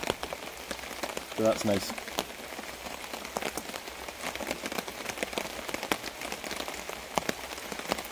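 Rain falls outdoors in a steady, close patter on surfaces, with scattered heavier drops and a brief spoken remark early on.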